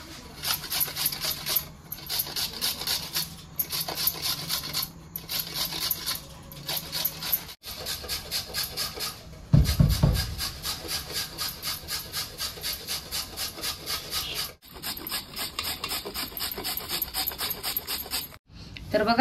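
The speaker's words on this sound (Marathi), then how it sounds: "सगळं गाजरं किसून घेतलेली आहे ती" Peeled carrots are grated for carrot halwa, giving rhythmic, repeated rasping strokes close to the microphone. The strokes come in steady bursts with brief pauses between them.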